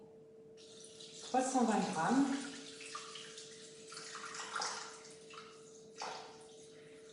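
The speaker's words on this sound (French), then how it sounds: "On va mettre l'eau, donc on va commencer par 320 g d'eau." Water is poured into a bowl on a kitchen scale, a brief gurgling splash close by, with someone speaking before and after.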